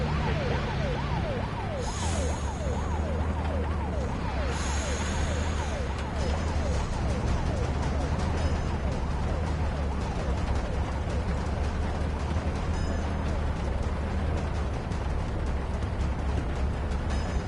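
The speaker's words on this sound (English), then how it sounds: "The ambulance will take care of it." A wailing ambulance siren in a video game sweeps up and down steadily for the whole stretch, loud and close, over a low engine rumble with faint background noise.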